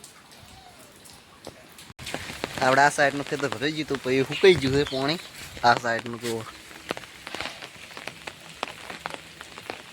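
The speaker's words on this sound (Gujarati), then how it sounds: "હજી પણ વરસાદ બંધ નહીં થયો ચાલુનો ચાલુ જ છે" Soft, steady patter of rain still falling over farm fields, with light scattered ticks of drops behind someone talking close by.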